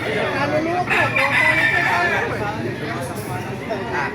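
Roosters crow repeatedly at a busy chicken market in Baliuag, Bulacan, loud and close, with crowd chatter and talking mixed underneath.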